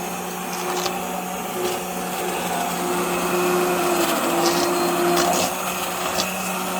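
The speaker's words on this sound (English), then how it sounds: "And now I'm gonna take a hand emulsifier." A steady whirring motor hum from a handheld blender blending seafood bisque runs throughout, with faint scraping and knocking sounds over it.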